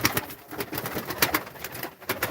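A grey male Sirkeli pigeon flies over a home terrace, giving repeated soft flutters and low coos at a quick, irregular rhythm, faint and somewhat distant, with no voices.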